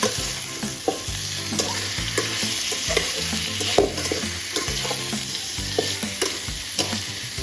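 Pork with banana flower and potatoes cooking in a pot, giving a steady close sizzle with scattered stirring clinks and no talk.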